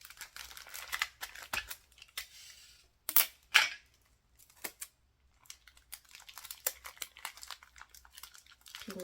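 Crinkly plastic wrap being pressed shut and taped on a homemade weighted vest, close rustling and crackling with a few sharp snaps of tape pulled and stuck down.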